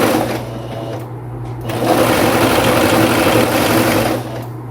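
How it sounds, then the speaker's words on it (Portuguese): A sewing machine stitches a straight seam on a dress bodice at the waist, running loud and close with a steady whirring drone that slows briefly and then speeds up again. "Vamos passar uma costura reta aqui."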